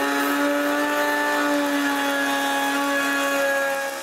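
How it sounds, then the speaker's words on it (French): A router fitted with a flush-trim bit cuts plywood with a loud, steady high-pitched whine that holds an even tone throughout, close by, easing slightly at the very end. "j'utilise une mèche à copier et je coupe le contreplaqué pareil comme mon patron"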